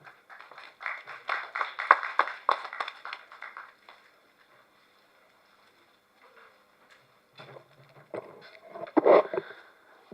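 Audience applause at a film press meet: a burst of clapping up front that fades out, then quieter scattered clapping returns near the end.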